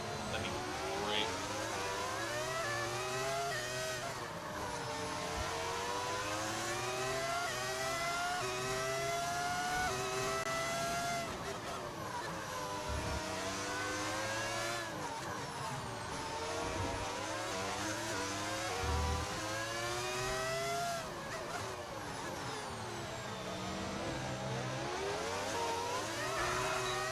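High-revving V10 race car engine from the F1 25 video game, steady and loud throughout, with rising and falling pitch sweeps as the car accelerates and shifts gears, plus gear-change dips.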